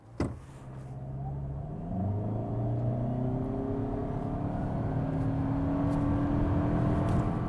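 A 2025 Toyota Camry hybrid, rated at a combined 225 horsepower, accelerates hard from a standstill without launch control. After a sharp thump, the engine drone climbs steadily in pitch, loud and close inside the cabin, with no talking.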